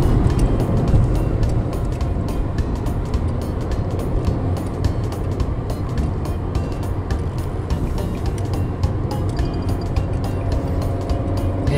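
A car drives along a road toward Czersk, producing a steady rumble of engine and tyre noise with scattered small clicks and rattles from the cabin.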